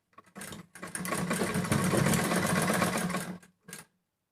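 A sewing machine runs steadily while stitching newborn baby clothes, a close, loud mechanical whir lasting about three seconds, then a short final burst after a brief stop.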